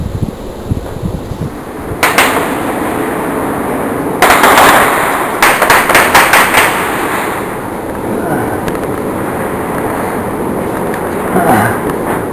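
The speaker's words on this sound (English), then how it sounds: "you hear gunfires that are happening probably about 50 metres away, and it still surprises everyone" Gunfire roughly 50 metres off during a long gathering on a cycling trip through Central Asia: bursts of sharp cracks around 2, 4–5, 5.5–7 and 12 seconds, some in rapid strings, over steady background noise.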